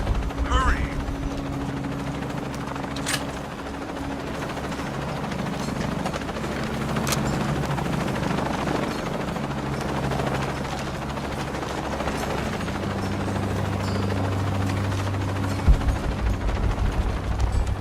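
Helicopter in the Shadow of the Tomb Raider video game, a steady low rotor drone running the whole time beneath urgent voices and scattered clattering game effects.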